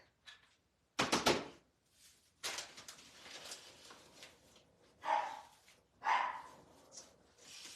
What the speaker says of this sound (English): I don't know what they're both barking at.